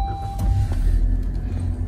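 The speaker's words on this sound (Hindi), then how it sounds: "तो बाकी गाड़ियों की तरह इसमें भी स्टार्ट स्टॉप वाला बटन है, तो स्टार्ट करते हैं गाड़ी।" A 2022 Maruti Suzuki Baleno top-model car starts at the push of its start-stop button, a low rumbling engine catch that settles into a close, steady idle hum lasting about two seconds.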